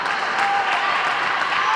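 Spectators clap steadily for a player at a women's basketball game in an indoor gym, a dense, even patter of hands from a modest crowd filling the whole moment without any voices over it.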